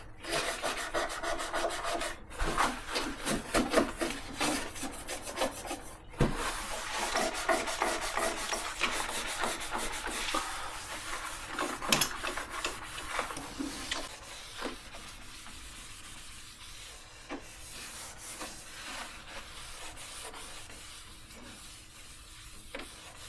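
Steady close rubbing and scrubbing of a cloth over a grimy treadle sewing machine, continuous and rasping with a few sharp knocks, fading somewhat toward the end, with no talk.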